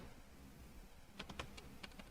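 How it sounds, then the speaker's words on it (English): A short burst of keyboard typing, several quick clicky keystrokes in an uneven rhythm over a faint background hiss. "Okay, I'm typing"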